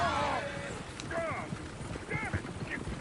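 Horses in the video game Red Dead Redemption 2, hooves clip-clopping under a low rumble with rising whinny-like calls, fairly faint and mixed with background game sound.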